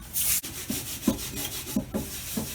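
Rust is scrubbed off a cast iron skillet with soft, uneven back-and-forth rasping strokes, faint and close, with a few brief knocks between them and no voices.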